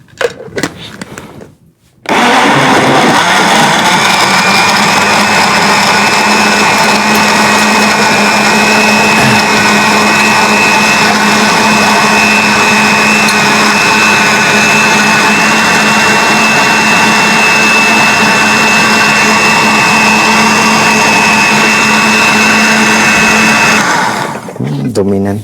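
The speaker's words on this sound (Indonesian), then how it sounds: "Kita blender." A kitchen blender whirs loudly as it purees green melon, avocado, cucumber and honey, starting up after a brief moment and running as a steady, high-pitched roar for more than twenty seconds before winding down.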